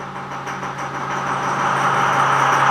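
A car engine in drive with the parking brake on idles roughly and loudly up close, making a low, diesel-like chugging that swells slightly over the span.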